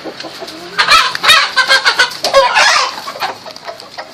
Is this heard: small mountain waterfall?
no